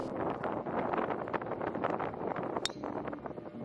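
Strong wind buffets the microphone on an oceanside golf course, a continuous low rumbling gust with irregular swells and rustling, close and steady with no talk.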